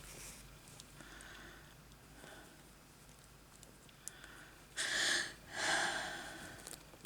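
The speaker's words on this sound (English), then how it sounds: "All heavy breathing." Heavy breathing and sniffing close to the microphone, soft snorts and exhales that rise into two louder, longer breaths near the end over a quiet room.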